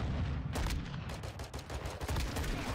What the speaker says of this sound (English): Man, it's a fully auto Deagle.